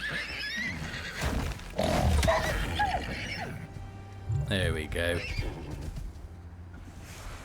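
Horse-like creature neighing in the survival video game Icarus during a fight with a wolf, a loud whinny amid game noise and mechanical clicks, with someone talking over it.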